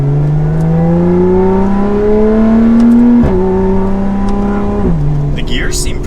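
A Lotus Evora 400 supercar engine in sport mode, revving loudly and steadily climbing in pitch before a sharp gear change drops it, then rising again; people speak briefly over it near the end.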